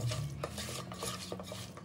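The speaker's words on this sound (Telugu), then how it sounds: "దీన్ని ఎట్లా కలుపుతున్నా అట్లే కలుపుకోవాలి" Spiced chicken for biryani is mixed in a bowl, giving a soft, continuous squelching and rustling with faint clinks of a utensil, close and low in level, with no talking.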